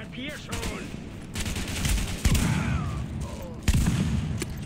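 Rapid bursts of gunfire in Tom Clancy's The Division pop and crack over a busy electronic background, with a couple of sharper, louder shots standing out.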